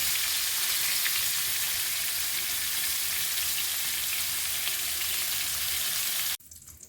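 Steady, loud sizzling of meat patties frying in an oiled hot pan, continuous crackle and spatter that cuts off abruptly near the end.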